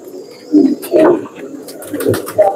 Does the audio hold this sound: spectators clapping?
no